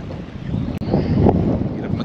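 Strong wind buffeting the microphone on a shallow beach while fishing, a low rumbling roar with gusty swells and a brief dropout, with possible surf in the background.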